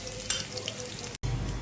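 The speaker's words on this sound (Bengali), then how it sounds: "পেঁয়াজটা 1 কাপ ভেজে নিই বেরেস্তা করার জন্য।" Onions frying in oil for birista, a sustained close sizzle with broadband crackle that cuts out for an instant near the end and returns louder.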